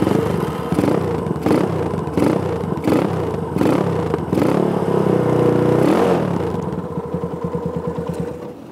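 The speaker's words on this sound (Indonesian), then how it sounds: "Jadi langsung aja kita nyalain motor ini supaya kalian dengar suara dari motor Yamaha" A Yamaha Scorpio motorcycle engine runs close by, with repeated sharp revving bursts early on before settling into a steady, throbbing idle.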